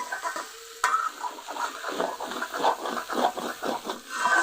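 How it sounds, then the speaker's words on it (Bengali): Pumpkin pieces and a fish head are stirred in a dry wok without water, giving a steady run of scraping, rustling strokes over a soft sizzle, close and fairly quiet, with one sharp clank near the start. "এভাবে ঢাকা দিয়ে রাখবো কিছুক্ষণ ভালো করে একটু নেড়ে দিচ্ছি"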